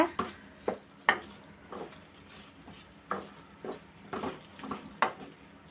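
A spoon stirs asafoetida powder into sweet mango pachadi, giving a series of soft, irregular scrapes and taps against the pot over a quiet background.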